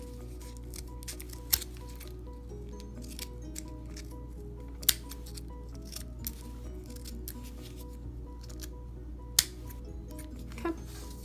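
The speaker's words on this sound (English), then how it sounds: "I'm gonna cut mine down a little bit because it is a little big." Scissors trim a plastic string organizer down to size, giving a few sparse, sharp snips against a steady low background hum, with no talking.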